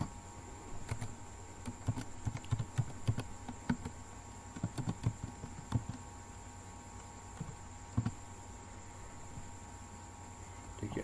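Computer keyboard keys being typed in MS Word, irregular soft clicks in short bursts over a faint steady background hum.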